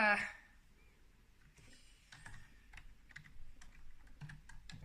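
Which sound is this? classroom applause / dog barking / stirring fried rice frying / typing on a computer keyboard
typing on a computer keyboard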